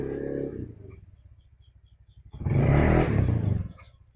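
Honda Click scooter with a tuned CVT idling with a soft rapid putter, then revving hard under throttle into a loud buzzing roar that holds for about a second before easing off, close by.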